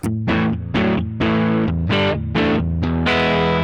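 Les Paul Standard on its neck pickup driven through a Boss OD200 pedal with flat EQ, giving a rounder distorted tone: about seven loud chord hits in a regular rhythm, each ringing briefly before the next, up close.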